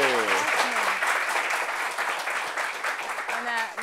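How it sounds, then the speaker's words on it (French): Audience at a French-language talk-show taping applauds steadily, a continuous wash of clapping with voices briefly heard over it at the start and end. "est-ce qu'on peut applaudir cette belle-mère, s'il vous plaît?"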